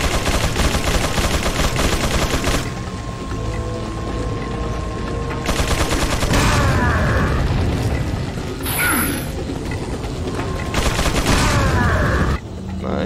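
Grenade explosion in the video game Resident Evil 4, set among loud rapid gunfire bursts and mechanical clatter, with several booming blasts breaking through the dense shooting.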